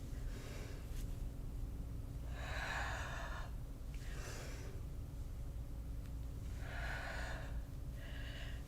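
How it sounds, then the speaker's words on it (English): Deep breathing during a strength yoga class, several distinct inhale and exhale bursts spaced a second or two apart over a steady low background hum, close and breathy with no talking. "Inhale, lengthen, exhale, squeeze."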